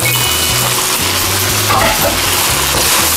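Bean sprouts being stir-fried with chow fun noodles and black pepper in a hot pan, with a steady loud sizzle and a repeated scraping of the utensil, alone with no talk.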